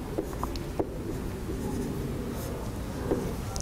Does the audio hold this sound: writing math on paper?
yes